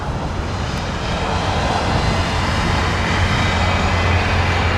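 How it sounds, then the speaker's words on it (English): Korean Air Boeing 787-9 Dreamliner arriving from Seoul at Toronto Pearson, a steady broadband jet roar with a low rumble holding evenly throughout, no voices. "Dreamliner."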